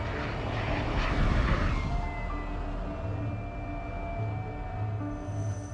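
A Starfighter jet taxis in at Bodø air base in northern Norway toward its squadron area, a steady, loud engine roar with whining tones that holds nearby throughout, with no talking.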